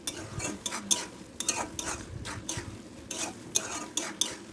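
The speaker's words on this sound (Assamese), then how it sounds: "যেতিয়ালৈকে পানীখিনি শুকাই নাযায় তেতিয়ালৈকে মই ভাজি থাকিম" Brinjal fries in a pan with butter while a utensil stirs and scrapes in repeated strokes, soft sizzling running underneath.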